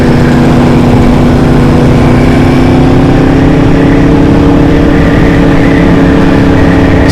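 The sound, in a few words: motorcycle riding on the road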